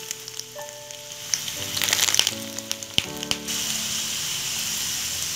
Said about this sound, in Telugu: మనం పకోడాస్ని ఫ్రై చేసుకోవాలి. చూడండి, మన పకోడాస్ చక్కగా వేగుతున్నాయి.